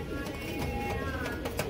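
Domestic pigeons of the Chandarkhani breed cooing in a continuous low murmur, with faint higher chirps and rustling mixed in and no talk.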